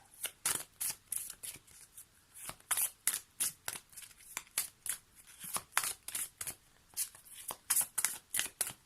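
Tarot cards are shuffled close up in a steady, rapid rhythm of crisp riffling flicks, repeated many times without pause, with no voice over them.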